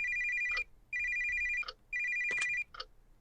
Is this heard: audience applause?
no